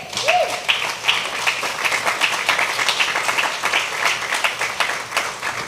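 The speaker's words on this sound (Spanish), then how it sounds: "Denle un aplauso al Rey" Church congregation applauding together, a steady dense wash of clapping from many hands that holds through the whole stretch with no talk over it.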